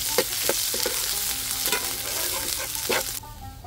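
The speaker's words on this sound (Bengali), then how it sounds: "আমি কিন্তু সরিষার তেলে ফোড়নটা দিচ্ছি।" Panch phoron, garlic and chopped onion sizzle steadily in hot mustard oil as a tempering, with a few louder crackles and stirring scrapes over a continuous frying hiss; no one speaks.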